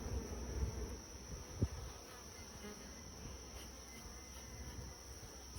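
Honey bees drone in a steady, even buzz around an open hive during an inspection, with one brief soft knock partway through and no talking.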